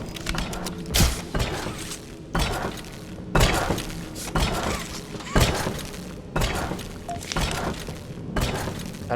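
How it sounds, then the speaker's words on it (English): Glass shatters in the horror video game Poppy Playtime, with repeated loud crashing bursts and clattering debris spread over several seconds. "We broke the glass"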